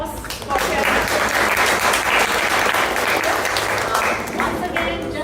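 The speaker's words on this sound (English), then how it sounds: "A huge round of applause for sharing." A live improv comedy audience bursts into sustained applause, many hands clapping loudly and steadily for about five seconds before tapering slightly at the end.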